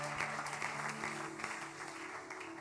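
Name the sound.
congregation applauding for the Lord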